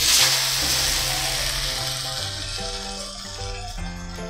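Broccoli omelette sizzling and frying in a pan, a steady close crackle that continues evenly without pause.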